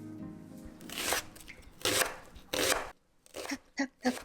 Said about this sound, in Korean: 탁탁탁탁 대파 써는 소리.